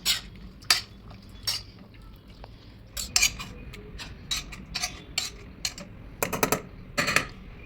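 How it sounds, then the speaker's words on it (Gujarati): Boiled vegetables for pav bhaji being mashed with a hand masher in a pot, giving repeated sharp metallic clinks and soft squashing thuds in irregular bursts, close and fairly loud with no talk. "મેશર વડે આ રીતે મેશ કરી લેવાનું"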